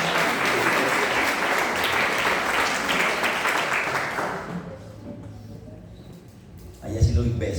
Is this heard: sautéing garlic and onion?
no